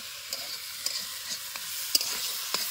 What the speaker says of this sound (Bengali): আচ্ছা, আলুগুলো একটু কষিয়ে নেব।